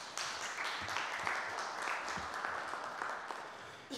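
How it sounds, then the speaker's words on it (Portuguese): Audience applause at a public meeting about sand extraction, moderately quiet even clapping from a modest crowd lasting a few seconds. "Aplausos."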